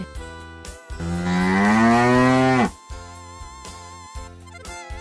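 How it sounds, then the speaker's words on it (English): A cow moos once in a long, loud, drawn-out call that rises and then cuts off, heard alone over a background of steady musical tones. "A cow lives in a shed."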